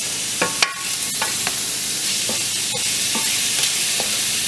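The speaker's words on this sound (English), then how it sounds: "just going to give it another stir." Chicken fried cauliflower rice, low-carb and seasoned with salt, garlic powder and onion powder, stirred in a hot pan: a steady loud sizzle with a few sharp utensil scrapes and taps spread through it, no voices.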